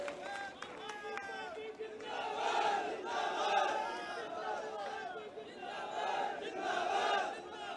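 A large crowd at an Aam Aadmi Party rally in Madhya Pradesh chants and cheers in rhythmic swelling waves, loud and dense, with shouted voices rising above the roar.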